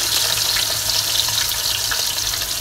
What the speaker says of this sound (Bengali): তো প্রথমে আমরা মাছটাকে ভেজে নিব